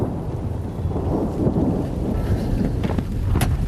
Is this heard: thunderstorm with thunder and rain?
yes